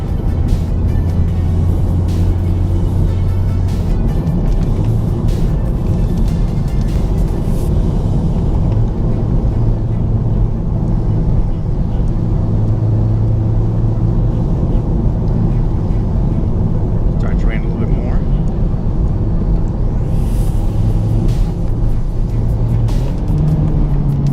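A Honda Civic Type R drives on a wet road in the rain, its engine droning steadily under a constant wash of tire and water noise, with low rumbling hum and no pauses.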